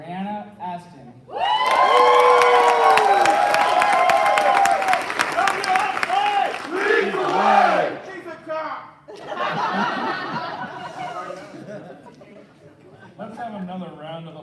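A large audience at an Air Force wing quarterly awards ceremony breaks into loud, sustained applause with whoops and cheers, then the clapping thins and fades as a voice speaks over it.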